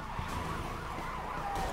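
A police car siren wailing steadily with a car engine beneath it, from the open-world video game Mafia 3, loud and continuous through a short burst with no talk.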